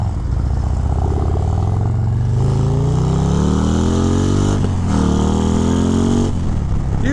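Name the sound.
Harley Davidson Road Glide ST 135 Stage 4 motorcycle riding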